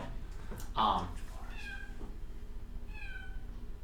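A person imitates a cat, giving a couple of short, nasal meow-like calls separated by a pause over faint background hum.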